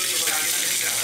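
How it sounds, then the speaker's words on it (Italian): Shower water runs in a home bathroom, a steady, close hiss of spray that fills the short moment without pause. "Vado sotto la doccia."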